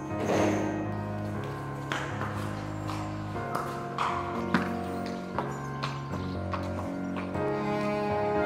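Horse hooves clip-clopping at an equestrian training setting, a steady run of taps with occasional brief pings over a constant background of music-like tones, with no talking.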